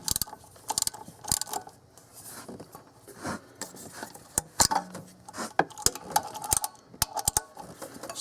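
A ratchet wrench loosens the water pump bolts on a 2003 Ford F-150. It gives bursts of close, sharp clicking with irregular pauses and scattered metallic clanks between the bursts.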